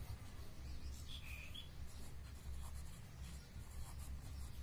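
Pen or marker scratching across paper by hand, soft rubbing strokes in a steady uneven rhythm under a low background hum, with no talking.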